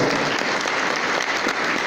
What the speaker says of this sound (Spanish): Aplaudan al Señor Jesucristo.